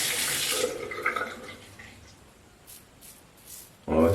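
Hot water runs from a tap before a shave with an Oxford Co. razor, a brief splashing gush that fades to a faint trickle, then a fresh burst at the end.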